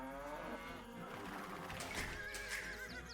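A horse whinnies from a cavalry unit in an Age of Empires 2 battle, a shrill high neigh rising over faint clip-clopping hooves and soft game ambience.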